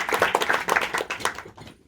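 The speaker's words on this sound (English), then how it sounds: "So give him a round of applause." A conference audience gives a short burst of light applause, a quick patter of claps that thins out and fades to quiet within about two seconds.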